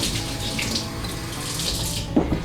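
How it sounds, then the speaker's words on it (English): Water runs from a tap at a steady, close gush to wet hands while making oat topping balls, ending with a brief splash as hands move under the stream. "I'm going to wet my hands a little bit."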